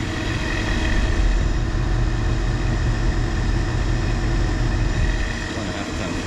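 A 1996 Carrier 38CKB one-and-a-half-ton air conditioner runs outdoors with a steady, quiet whooshing drone as it blows out hot air, holding an even level throughout.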